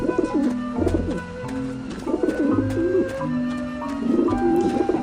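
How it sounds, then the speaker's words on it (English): Birds coo repeatedly in the game Grim Fandango Remastered, several soft pigeon-like calls rising and falling in short bursts over a quiet, tonal game backdrop. "that will scare off the birds because they'll come eat the bread"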